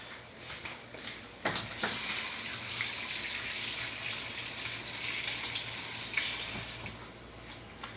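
Running tap water splashes steadily into a sink as dry guava leaves are rinsed under the stream, a close, continuous gushing flow with a few brief surges.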